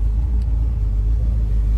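A loud car rumbles past nearby, a steady heavy low engine roar that fills the whole moment with no voices over it.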